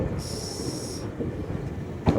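A train rolls into a station platform with a steady low rumble, then a brief sustained high hiss like air brakes, and a sharp clank near the end; no one speaks.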